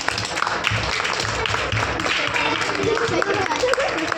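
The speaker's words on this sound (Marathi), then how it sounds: "जोरदार टाळ्या वाजवा बरं साठी" An audience at a demonstration of toys made from waste materials claps loudly in continuous, dense applause, close and steady for the whole stretch.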